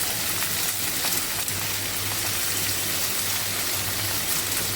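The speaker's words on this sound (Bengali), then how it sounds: "এবার এটাকে আমি ভালো করে ভেজে নেবো আলুটাকে।" Potatoes frying in a pan with salt and turmeric give a steady, dense sizzle that crackles evenly throughout, close and moderately loud, with no talking.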